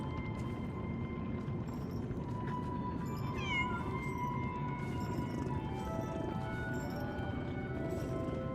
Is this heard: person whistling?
no